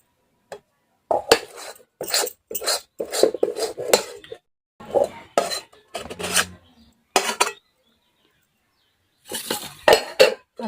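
Hot jaggery and peanut burfi mixture is scraped from a pan onto a ghee-greased plate, giving repeated close metallic clinks and scraping strokes separated by short pauses.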